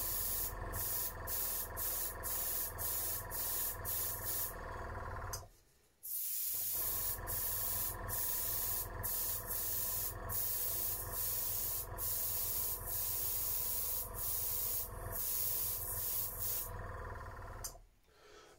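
Spray paint hissing onto a homemade bottom jerkbait fishing lure, close steady bursts of spray with rapid pulsing, pausing briefly twice between passes.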